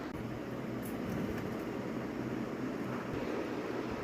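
A steady broadband whoosh of a running electric fan, constant and unbroken, with a faint low hum underneath.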